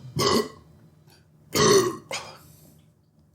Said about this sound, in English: We've already got burps.